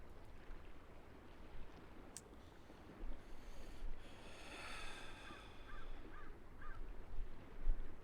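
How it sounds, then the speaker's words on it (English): A crow caws a few times in the video game Over the Alps, a short series of faint, distant calls over a low rumbling ambient bed. "I don't like the sound of that crow."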